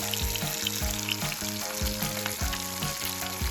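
Sand dabs fry in hot oil at medium heat, giving a continuous crackling sizzle with rhythmic soft thuds and scrapes throughout and no voices.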